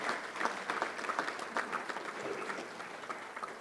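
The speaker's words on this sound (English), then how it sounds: "Let's give all those guys a round of applause who started this club." A round of applause at a Little Rock Touchdown Club luncheon, honoring the club's founders; steady clapping from the audience that is fairly quiet and moderately distant, with no talk over it.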